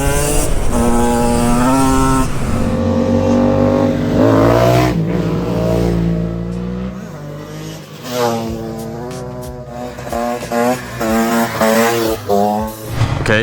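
125cc two-stroke and four-stroke motorcycles riding fast, loud close engine whine climbing through gears with repeated rev rises and shifts, one bike dropping away then surging again.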